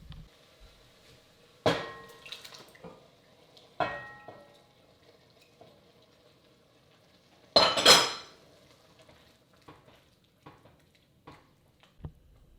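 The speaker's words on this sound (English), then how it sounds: "I am adding a 28-ounce can of San Marzano tomatoes that I've crushed with my hands." Crushed San Marzano tomatoes from a 28-ounce can go into a pot of minestrone, with a few loud, separate clanks and wet splats spread over a mostly quiet stretch.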